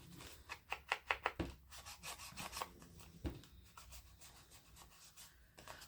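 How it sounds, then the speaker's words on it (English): Rough dabbing and rubbing of an ink pad around paper edges for a junk journal pocket, a quick run of close scratchy strokes followed by softer, slower rasping. "So I'm just roughly inking around the inside"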